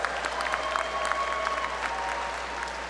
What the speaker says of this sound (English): Let's give a round of applause to the Dollinger Master of Real Estate Development graduates